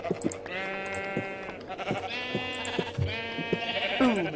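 Several sheep bleats from Minecraft, wavering nasal cries in a repeating series with clicky game sounds between them and no talking.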